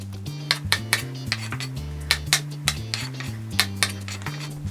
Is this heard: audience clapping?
no